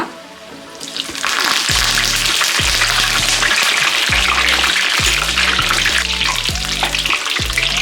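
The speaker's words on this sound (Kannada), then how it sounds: "ಈಗ ಇದಕ್ಕೆ ನಾನು ಕರಿಬೇವು ಹಾಕೋತಾ ಇದ್ದೀನಿ ಸ್ವಲ್ಪ" Curry leaves drop into hot oil where aloo kabab is frying and set off a sudden loud, steady crackling sizzle up close. Pieces scrape and stir in the pan now and then beneath the hiss.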